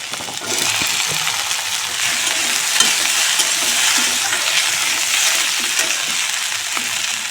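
Chopped okra and potatoes frying in fish oil in a pan, giving a dense, continuous sizzle with faint scraping and stirring strokes throughout.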